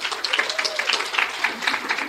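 Audience applause right after a guest speaker is introduced at an academic teaching-series lecture, a steady patter of many hands clapping at moderate distance throughout.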